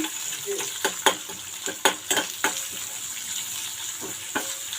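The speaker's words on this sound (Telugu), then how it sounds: "మనకు ఆనియన్స్ అనేవి బాగా వేగిపోయాయి కదా, ఇలా వేగితే చాలు" Sliced onions frying in a pan for potato fry, a soft steady sizzle broken by a series of close spatula scrapes and taps against the pan, without talking.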